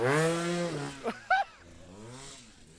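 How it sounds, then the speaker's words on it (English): A racing motorcycle bounces off its rev limiter at an amateur off-road race near a sand turn. A loud, buzzing engine note with strong harmonics stutters and breaks up in short bursts, then fades as the bike moves away. "Blowing it on the rev limiter, coming in."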